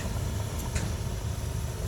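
A Cat 320D excavator's six-cylinder Cat diesel engine, rated at 139 horsepower and about 1,750 rpm on a 21.7-tonne machine, runs at a steady, even drone. The dense, constant mechanical rumble continues without pause and with no voices.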